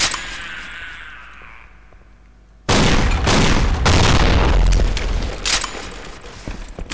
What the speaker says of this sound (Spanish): Le di tres tiros de Magnum y explotó en el tercero.